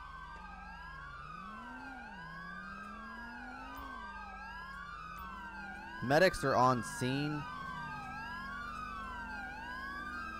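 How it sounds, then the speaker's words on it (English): Police sirens from GTA 5 with the LSPDFR mod wail in long rising and falling sweeps throughout, loud and steady, while a short burst of radio-style speech cuts in midway. "I wish these cops would turn off their fucking sirens, because this is kind of annoying"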